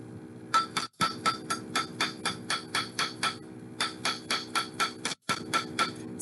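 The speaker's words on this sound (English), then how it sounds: "I'm going to hammer all the way around." The flat side of a hammer strikes a soldered metal bangle bracelet again and again, ringing metallic blows in a steady rapid rhythm with two short pauses. Loud and close.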